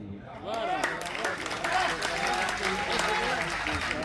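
An audience at an all-India poetry gathering in Sagwara breaks into sustained applause, a dense wash of clapping that swells quickly and carries on with some crowd noise.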